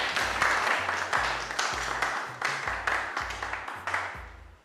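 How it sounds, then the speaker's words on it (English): A classroom of students claps for themselves in a steady, fairly close round of applause. The clapping pulses in rough waves over a low background hum and fades at the end. "Clap for yourselves."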